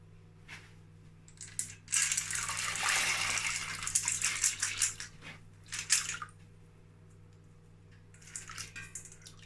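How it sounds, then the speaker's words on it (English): Dry beans for agoyin are swished and rubbed by hand in a bowl of water, making bursts of close sloshing and splashing with a wet, gritty rattle, then a pause before another short round. "That's how I like my beans to wash. Just wash it like about two or three times."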